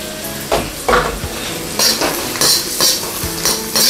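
Garlic sizzles in a pan while a utensil stirs it in repeated bursts, steady frying hiss under clinking scrapes roughly every half second, close and fairly loud.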